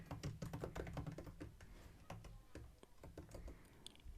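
Quiet, close typing on a computer keyboard, with rapid irregular clicks in short bursts and brief pauses between them.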